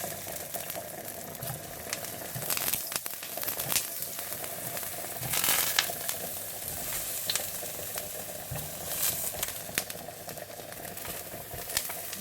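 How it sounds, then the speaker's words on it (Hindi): Aubergines fry in a pan of oil with a continuous crackling sizzle, dotted with sharper pops and spatters, quiet and steady over the whole stretch. "और इसी तरह से आप सारे बैंगन फ्राई कर लें"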